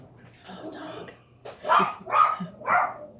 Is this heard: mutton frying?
no